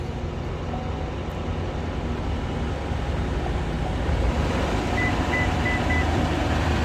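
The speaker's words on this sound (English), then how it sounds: "I do hear the compressor going." A Viair Ultra Duty air compressor runs as a steady, loud drone alongside a truck engine idling at raised revs, with a few faint beeps near the end.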